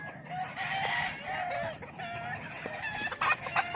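Grey stag roosters crow and cluck in a farm pen, with several overlapping calls at moderate distance and some sharper clucks near the end.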